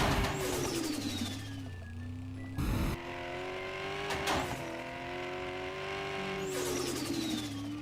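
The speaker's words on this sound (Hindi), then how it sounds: "ब्रो क्या आवाज करती है ये गाड़ी" A very old car model fitted with a wide body kit revs its engine loudly in the Car For Sale video game, with sustained harmonic engine tones rising and falling and a sharp burst near the middle, heard up close without talk.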